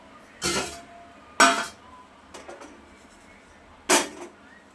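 Roasted grated coconut is moved from the pan onto a plate, giving several separate scraping clatters of metal spoon against the pan with quiet pauses between them.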